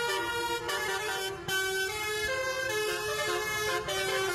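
A loud, close bus horn plays a tuneful multi-note telolet melody at a school, the pitched tones shifting in a repeating pattern.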